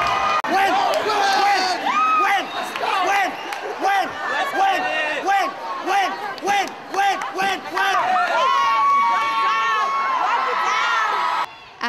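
Students cheering at a competitive teachers' basketball game between two schools, a loud indoor crowd with shouts and whoops, rising and falling chants and sustained yelling throughout.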